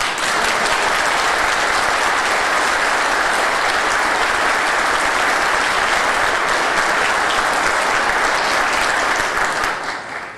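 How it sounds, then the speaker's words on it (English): A large audience claps steadily and loudly for about ten seconds, a dense even roar of hands that tapers slightly at the end. "Let's give an applause."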